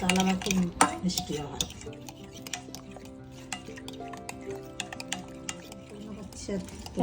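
Rice flour, atta and salt being mixed by hand in a bowl, with soft stirring, scraping and light clinks of a utensil against the dish, close and fairly quiet, as someone speaks between the sounds.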